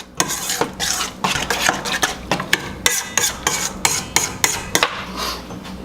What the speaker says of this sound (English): Stir that up nice and good. Get that egg and all the other ingredients mixed in there well.